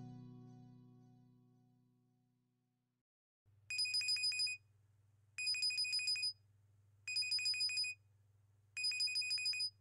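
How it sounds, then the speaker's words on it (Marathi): A mobile phone rings in a Marathi household, four bursts of a bright electronic ringtone repeating at steady intervals over a low steady hum, after a fading stretch of background tone at the start. "ओमचा फोन आहे."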